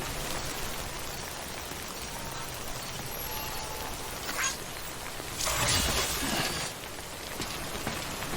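Timefall rain in Death Stranding patters steadily on surfaces as a constant hiss of drops, swelling briefly louder midway before settling back, with no voices.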